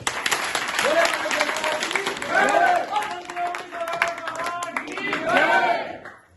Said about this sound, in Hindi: ताली बजानी चाहिए कि नहीं?